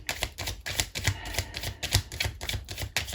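A tarot card deck is shuffled close by in rapid, crisp riffling bursts, a steady rattling patter of cards that repeats through the whole stretch with no talking.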